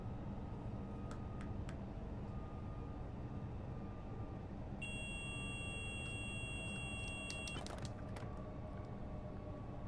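Intermittent warning beeps from the CIFA cab safety system in Train Sim World 6 on the Köln–Aachen line, a few steady tones sounding over continuous low train rumble with no talk.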